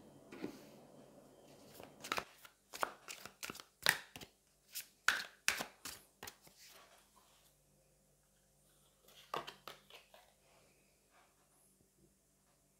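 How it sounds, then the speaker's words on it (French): Tarot cards riffle and slide from a deck in quiet, close bursts of papery flicks and taps, followed by a pause and one more short flurry near the end. "je vais prendre une carte juste pour vous, qui vous représente"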